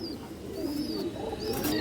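A female pigeon of full-down shape coos in low, soft murmurs among other birds, with faint chirps and whistles drifting above the steady loft background.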